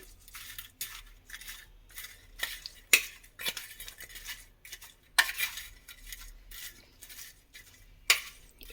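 A spoon stirs turmeric through bajji mirchi pickle in a bowl, making repeated scraping and clinking strokes in an uneven rhythm, close up and without speech.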